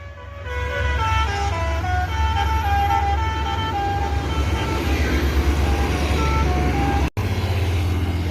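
A bus drives along a road in Indonesia, with a steady engine roar up close and a musical multi-tone horn sounding repeatedly over it. No one speaks.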